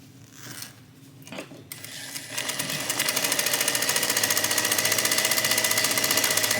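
A sewing machine stitches together the pocket pieces of a tote bag, a few short starts at first and then a steady, loud, rapid mechanical chatter running to the end.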